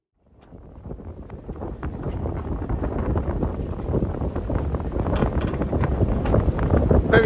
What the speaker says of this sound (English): the wind speed is still variable and unpredictable.